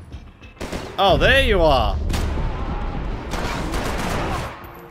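Rapid bursts of gunfire in a Max Payne 3 shootout in a stadium, loud and sustained, with someone briefly talking and game sounds mixed in.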